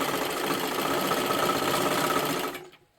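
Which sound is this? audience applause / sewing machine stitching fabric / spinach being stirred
sewing machine stitching fabric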